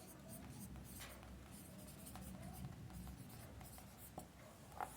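Chalk or marker strokes on a board during a physics lecture on recoil and conservation of momentum, a series of faint scratchy scribbles over steady room noise, with some quiet talk.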